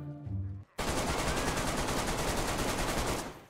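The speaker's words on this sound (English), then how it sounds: "Some of the worst shooting ever seen, but we survived, somehow" Dense, rapid automatic gunfire erupts in DayZ after a brief lull, a loud sustained burst of rattling shots lasting about three seconds before cutting off.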